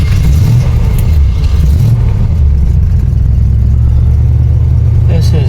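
1974 Checker Marathon wagon driving down the road, with a loud low engine drone and rumble heard close from inside, a brief rev early on, then steady cruising.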